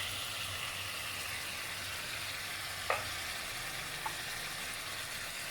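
Vegetables and egg stir-fry in a pan with tomato sauce and pepper, a steady broadband sizzle and hiss throughout, broken by a single sharp utensil clink near the end.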